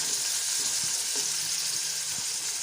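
Green onion, green chilli and capsicum sizzle in a hot pan, a steady bright frying hiss with a few soft stirring knocks, close and moderately loud, no voices.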